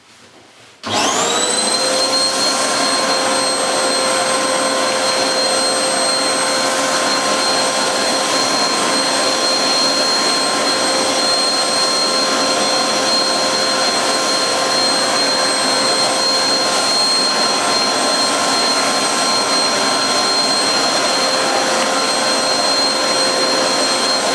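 A Hoover Blaze bagless cylinder vacuum cleaner with a parquet nozzle starts up after a second of quiet, then runs with a loud steady high-pitched whine and roar, alone and without talk.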